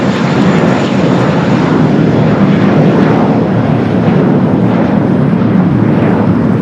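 Air Canada airliner at Los Angeles International Airport, heard as a loud, steady broad jet roar that holds without a break for several seconds, with no voices.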